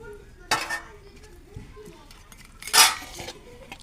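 Fried fish pieces go into a pot of cauliflower and fish curry, giving a few sharp metallic clinks and scrapes of utensils against the pot, close and fairly loud, with quiet kitchen background between them.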